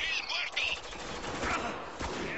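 Gunfire in the video game Spec Ops: The Line, a dense fusillade of rapid shots and bursts through a battle, loud and close, with voices shouting over the fighting.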